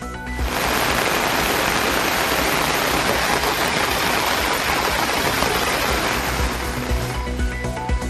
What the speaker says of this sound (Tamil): ஓசூர் மற்றும் சுற்றுப்பகுதிகளில் கனமழை.